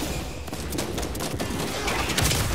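Dense gunfire in the video game Space Marine 2, continuous overlapping bursts and thuds forming a loud, busy barrage throughout.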